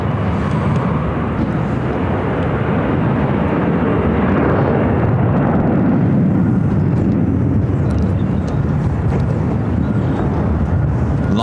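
An airliner takes off from runway 25 right at Phoenix airport, a loud, sustained jet roar filling the air without letup, deep rumble dominating.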